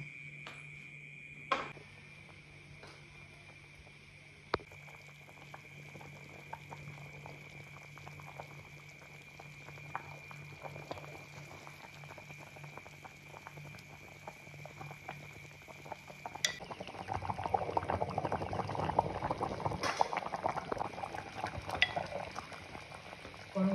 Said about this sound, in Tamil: நல்லா கொதிக்கட்டும்